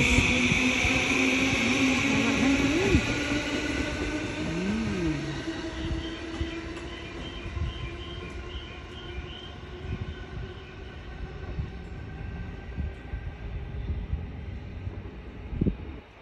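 A train pulls out of a station in Japan with a loud, steady rolling rumble and a tonal whine that fade gradually as it moves away. Faint clicks and knocks follow over a quieter rail hum.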